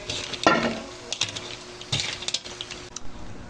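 Mixed seafood tossed with Cajun powder in a pan is stirred with a utensil, producing sharp scrapes and clacks against the metal in uneven bursts over a low sizzle, up close.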